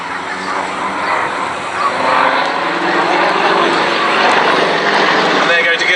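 A pair of Yak propeller aircraft flies close formation aerobatics at a seaside air show, with a steady loud engine and propeller drone that swells and holds for several seconds, and a voice talks over it.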